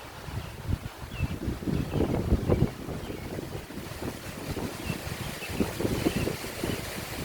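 Steady wind gusting and rushing outdoors, with a broad low roar that swells and eases over several seconds, close to the microphone and heard alone without any voices.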